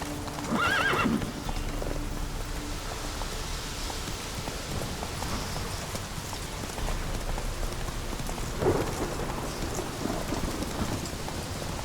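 Roach the horse in The Witcher 3 clip-clops along with steady hoofbeats under constant falling rain, with a brief neigh near the start.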